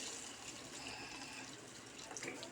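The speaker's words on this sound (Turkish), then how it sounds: "Şimdi suyunu verelim. Kaynak su arkadaşlar." Boiling water poured from a height into a pot of village-lentil stew, a steady broadband splashing rush that continues unbroken and fairly close throughout, with no voices.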